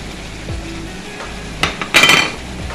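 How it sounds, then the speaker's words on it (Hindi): Chicken karahi with masala sizzling in a pan and stirred, a steady frying hiss topped by a few sharp clinks and scrapes of a utensil against the pan near the end. "बाकी अपना डालेंगे मसाला सारा"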